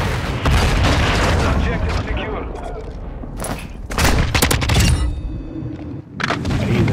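Loud gunfire and booming explosions from Call of Duty: Modern Warfare II come in rapid bursts and heavy blasts, mixed with someone talking over the game action.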